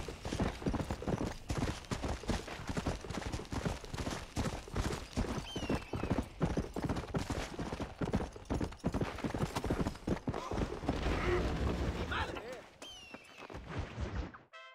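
Horse hooves gallop in a fast, steady clip-clop through Red Dead Redemption on Xbox Series X, with a brief whinny and occasional voices over the rhythm before the pace eases near the end.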